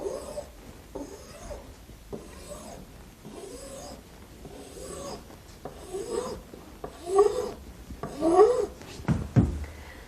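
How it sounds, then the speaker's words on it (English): A file strokes back and forth along the sharp edge of a bathroom countertop, a dry rasping repeated about nine times in a steady rhythm, heard close and growing louder toward the end. "we'll smooth down the sharp edge with a file"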